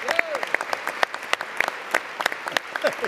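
Sparse, irregular claps from a young boy up in the gallery of the House chamber during a congressional swearing-in, sharp and fairly near, with a faint voice and room murmur underneath.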